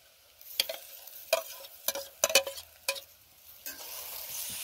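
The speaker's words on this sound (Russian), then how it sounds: "И продолжаем обжаривать." Tomatoes and peppers frying in a cauldron on an electric stove, stirred in a few quick bursts of scraping and clatter over a soft, steady sizzle, close and alone with no talking.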